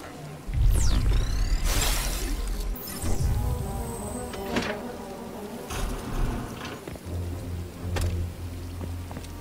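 Bees buzz in the game République, a thin whining drone under a busy bed of thuds, clatter and game ambience, with sharp impacts scattered across the stretch.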